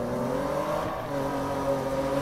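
A car engine in the game Need for Speed (2015) hums and revs steadily with a smooth, sustained tone, close and fairly loud throughout, with no talking.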